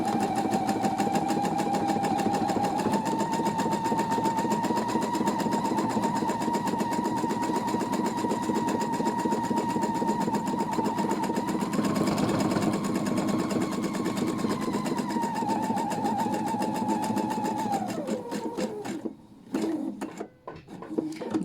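A sewing machine stitching denim in straight lines, a loud steady whirring motor with a rapid needle clatter that runs unbroken for about eighteen seconds, then slows and stops.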